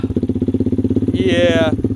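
A Lifan KP Mini 300 motorcycle with a 4-valve ZS175FMN engine and custom exhaust runs at a steady, pulsing idle, close and loud, before a brief rising rev that holds and then drops back; no one speaks.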